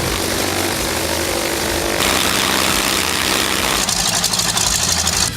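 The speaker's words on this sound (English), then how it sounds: "You can experience it with the real roaring of the engine instead of a downloaded library sound." Recorded engine of a real WWII-era propeller warplane in World of Warplanes, a loud continuous roar with heavy low rumble, shifting in character partway through and growing harsher toward the end.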